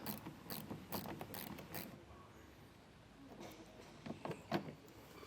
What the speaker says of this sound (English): I'm just going to be using this small ratcheting bit driver here. So go ahead and get these 5 removed.